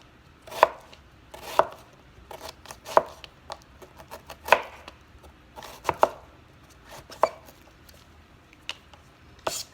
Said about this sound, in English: And slice it.